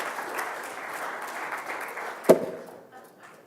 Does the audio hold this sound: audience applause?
yes